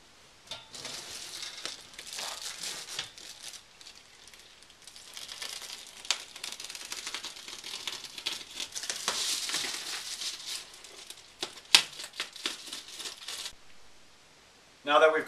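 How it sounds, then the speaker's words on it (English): A utility knife with a fresh blade slices reflective foil bubble insulation, making crinkling and scraping rustles in uneven bursts with brief pauses, and a sharper crackle near the end. "Cutting reflective foil insulation is easy. Simply use a standard utility knife with a fresh blade."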